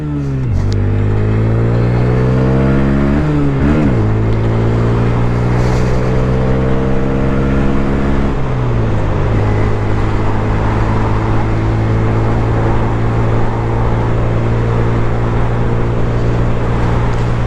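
A 2022-or-later Honda Grom motorcycle engine held near top speed, droning loud and steady with a strong low hum, dipping briefly at gear shifts and then holding its pitch.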